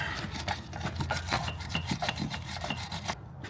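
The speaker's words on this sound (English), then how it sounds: "first job I'm going to do is clean the threads up a little bit to make it easier to get the nut off" A wire brush scrubs the threads of a rear anti-roll bar link on an Alfa Romeo Giulia or Stelvio, a steady close rasping rub in quick back-and-forth strokes that stops abruptly near the end.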